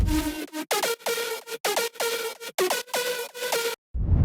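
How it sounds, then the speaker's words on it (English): A bright, buzzy synth lead in a melodic bass house track plays a choppy rhythmic phrase of short notes with quick pitch dips and sidechain pumping, each note cut off sharply, then it stops. "Leads with effect sounds like this."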